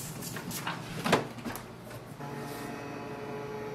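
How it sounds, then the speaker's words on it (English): A Canon TR4500 inkjet printer scans its alignment page, giving soft mechanical shuffles and clicks that settle into a steady motor hum, close and fairly quiet. "So it will do the alignment, it will scan the page and it will improve the print quality."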